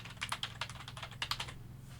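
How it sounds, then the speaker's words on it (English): Fingers type briskly on a computer keyboard, a close run of clicky keystrokes for about a second and a half before it stops, with no voices. "So we can type out a logo for them as well."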